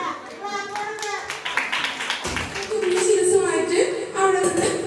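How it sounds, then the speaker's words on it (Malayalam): Children clap in a classroom, scattered and uneven, under a voice and children's chatter. "ക്ലാപ്പ് ചെയ്യൂ, ക്ലാപ്പ് ചെയ്യൂ"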